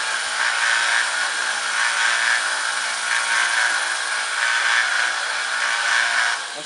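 A belt grinder sharpens a sword blade in a cramped indoor space, a steady loud abrasive whir with a harsh grinding hiss that holds nearly constant throughout, easing slightly at the very end.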